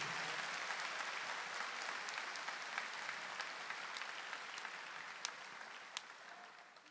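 Church congregation applauding during a Catholic Mass homily, a steady dense wash of clapping that fades slightly over about seven seconds, fairly distant and moderate in level.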